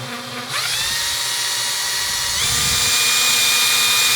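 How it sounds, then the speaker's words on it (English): A power drill whirs up to speed, then pitches higher as it spins faster, a loud steady whine close by with no speech. "connect up the drill, spin it up"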